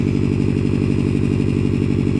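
A 2019 Subaru STI with a Tomei catback exhaust idling, a loud, close, steady low burbling rumble with an even pulsing beat throughout, no voices.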